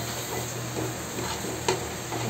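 Cashew curry (kaju bhaji) stirred and mixed in a pan, giving a steady soft scraping and gentle sizzle with one sharper clink of the spoon partway through, close and unaccompanied by talk.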